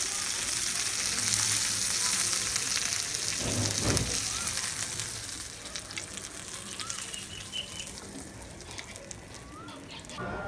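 Chicken for a spicy chicken burger fries in a pan, a continuous crackling sizzle with a louder burst of spattering partway through, staying close and steady before easing slightly.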